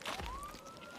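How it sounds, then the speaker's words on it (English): Police siren from a video game, a single rising wail sweeping upward and holding, fairly quiet and heard alone. "anytime that siren plays, always gets copyright strike"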